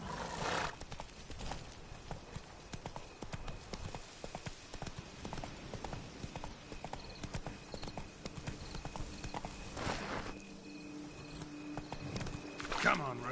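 Horse hooves clip-clopping at a steady walking pace in The Witcher 3 game, close and continuous, with a brief whinny and a voice speaking quietly over the riding.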